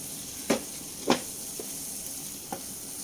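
Chana masala spices fry over a low flame with a soft, steady sizzle. A few light spoon scrapes and clicks stand out briefly against the quiet hiss.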